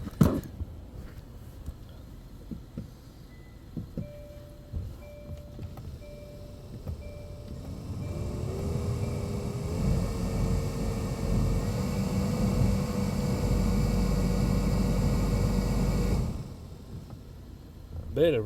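A replaced blower motor fan in a 2017 Hyundai Elantra with 83,000 miles runs steadily as a loud, even whir that builds up, holds for several seconds, then cuts off, with a few clicks and brief speech around it.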